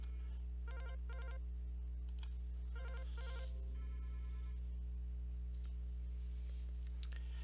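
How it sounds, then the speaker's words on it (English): A simulated incoming call on a business phone system rings in short electronic bursts and tones over a steady low hum, with a few clicks between rings. "We will begin by simulating an incoming call"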